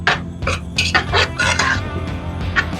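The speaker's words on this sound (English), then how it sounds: "Now let me stir this a little bit." Salmon stew being stirred in a pot, a spoon knocking and scraping against the metal in several close, uneven strokes over a low background, no voices.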